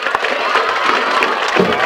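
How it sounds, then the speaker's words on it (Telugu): Gurukula school students clapping together loudly in a room, a brief dense burst of hand claps with some crowd noise mixed in. "చప్పట్లు పెట్టండి గట్టిగా."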